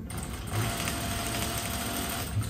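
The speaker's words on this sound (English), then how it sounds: "I noticed as I was stitching along that this was having trouble going through the machine." Sewing machine stitching decorative trim onto a pillow with the presser foot pressure released, giving a steady close mechanical whir that runs continuously without pause.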